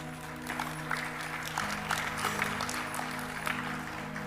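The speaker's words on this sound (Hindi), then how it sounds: "आप लोग तो ताली बजा रहे हो" An audience at a Hindu religious discourse claps in a steady, moderate patter under a sustained background hum, with no voices over it.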